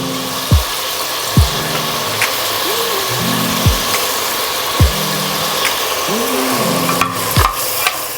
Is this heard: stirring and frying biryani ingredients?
yes